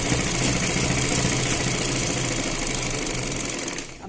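An electric sewing machine runs a steady, fast stitch along a blouse lining for several seconds, then slows and stops near the end.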